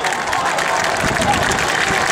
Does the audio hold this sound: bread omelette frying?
no